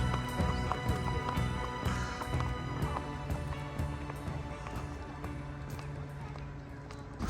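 Several horses trot in a farming video game, their hoof clip-clops repeating steadily and fairly close over a busy layer of game sound, with a possible faint whinny and no speech.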